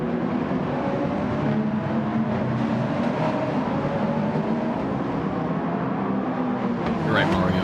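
GT3 race cars at Laguna Seca in Gran Turismo roar in a steady, dense engine drone as a pack runs through the final corner, with a voice talking over the noise.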